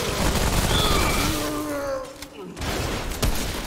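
Cannons fire in the video game Remnant, DLC Subject 2923, as a dense, loud barrage of overlapping blasts with crackling debris, continuing throughout under steady game noise.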